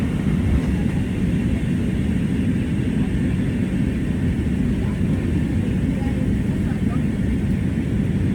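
Airplane cabin noise during a flight to Delhi, a steady low broadband roar and hum that stays constant and loud throughout, with no break.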